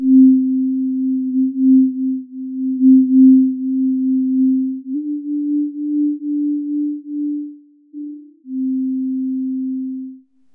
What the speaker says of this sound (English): you hear the bandpass filtered partial in real time on your headphones.